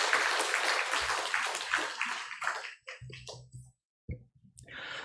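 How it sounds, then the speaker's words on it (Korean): A church congregation applauds, a dense burst of clapping that thins out into scattered claps and a few isolated hand slaps before fading. "영광받으신 하나님께 다시 한번 영광의 박수 올려드리겠습니다"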